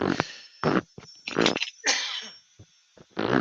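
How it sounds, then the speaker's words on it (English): A person coughs in a string of short, harsh bursts at close range, irregular hacks separated by silent gaps. "Oh, I've got a bad cough now."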